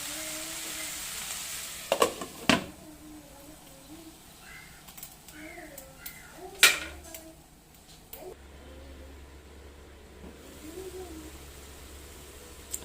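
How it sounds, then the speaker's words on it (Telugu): Tomato masala for a dry prawn and egg curry simmering in a pan on a low flame, a soft steady sizzle with a few sharp utensil clicks and taps from stirring. "అప్పటి వరకు సిమ్లో పెట్టి మధ్య మధ్యలో కలుపుకుంటూ ఉండండి."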